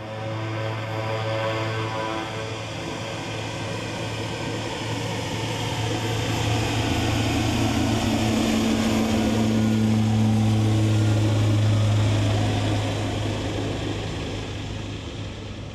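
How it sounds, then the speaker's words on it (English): A de Havilland Otter floatplane departs, its piston engine and propeller making a continuous broad drone with a steady low hum that swells slightly and then eases as it pulls away, heard alone without talk. "Here, the otters departing for Valdez."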